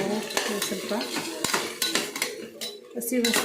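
Chili masala paste fried and stirred in a metal pan for village-style vegetable pulao, with frequent scraping and clanking of a ladle against the pan over a soft sizzle, close and busy.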